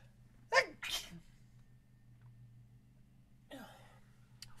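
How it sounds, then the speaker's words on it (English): A sharp sneeze bursts out near the microphone, followed by a short breath and a second quieter exhalation a few seconds later, against a low hum. "I'm about to sneeze"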